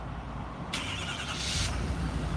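A starter whirs briefly and a 2018 Ford F-250 Power Stroke diesel engine catches, settling into a low, steady idle close by.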